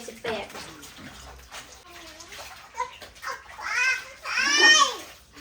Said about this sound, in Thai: ปล่อยน้ำใส่อ่างให้ปลาเลยอ่ะ